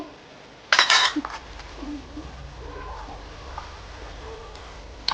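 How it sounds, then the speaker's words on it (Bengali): A spoon clinks against a bowl while lemon juice is stirred into raw chicken for a spicy chicken curry: a short, close burst of metallic clinks near the start, then a quiet room with faint background noise. "তো এই মাংসটার মধ্যে 2 চামচ মতন লেবুর রস মিশিয়ে দেব"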